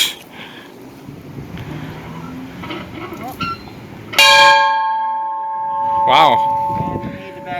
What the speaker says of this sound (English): Can we ring the bell? Sure.